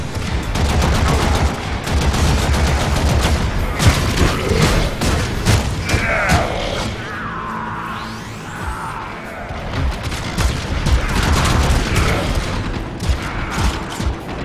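Assault rifle gunfire in the Warframe video game during a wave defense mission, dense rapid bursts of loud shots mixed with booms and mechanical game effects, continuous and close, a short lull midway.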